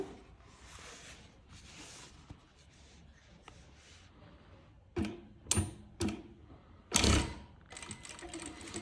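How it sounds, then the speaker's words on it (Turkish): A sewing machine runs a diagonal stitch across a shirt cuff in short separate bursts of whirring, loudest toward the end, with quieter handling sounds in between. "Şimdi şuradan şöyle bir çapraz bir dikiş çekiyorum."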